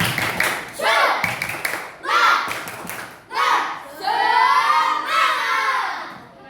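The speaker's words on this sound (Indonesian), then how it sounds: "Tepuk semangat." Children in an Indonesian classroom perform a spirited group clap chant, with bursts of shouting voices and claps coming in rhythmic waves, loud and close.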